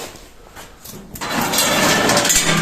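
A concrete block-making machine starts up for a test run, going from quiet to a loud, steady mechanical roar about halfway in and holding that close, even drone to the end.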